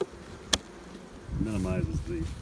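Honey bees buzz around an open hive during a beekeeping inspection, a close wavering drone rising after a sharp click, with a voice briefly audible.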